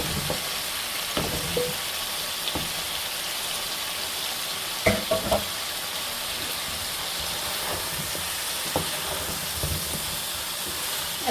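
Potatoes fry in a pan with spices for a sunfish curry, giving a quiet, steady sizzle with occasional scrapes and knocks of stirring, no voices.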